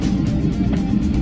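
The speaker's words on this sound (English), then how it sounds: "a valve in the exhaust stays open the whole time, which means you get a fantastically brutal soundtrack" Maserati MC Stradale engine with its exhaust valve held open, a dense, loud, steady low-pitched roar that holds without a break, close by and with no talk over it.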